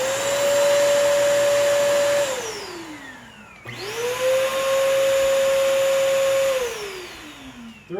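A Bissell Crosswave wet-dry floor cleaner runs loud and close with a steady motor whine that winds down, then starts up again and holds before spinning down once more.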